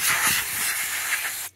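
Aerosol can of brake cleaner spraying during the restoration of an early-1960s Magnavox stereo console with a 23-inch black-and-white TV, a loud close continuous hiss lasting about a second and a half before stopping abruptly.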